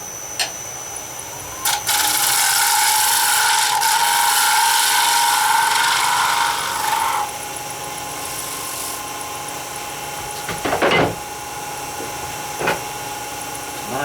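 Wood turning on a lathe with a tail stock steady is sanded, a loud abrasive whir that runs for about five seconds and then stops, followed by brief knocks and handling noises.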